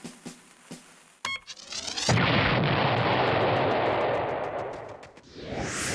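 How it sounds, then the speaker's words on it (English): A cartoon bomb blows up in a kids' episode: a few soft clicks and a short rising whine come first, then a loud, long roaring blast that slowly fades. "Chilly had a little bomb whose button made it go."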